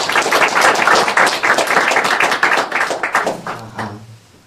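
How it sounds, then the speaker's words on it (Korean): Loud audience applause welcomes a speaker at a human rights lecture, dense overlapping claps that carry strongly for several seconds before thinning into scattered claps and fading out. "오늘 뜨거운 박수로 공연님 맞이하겠습니다."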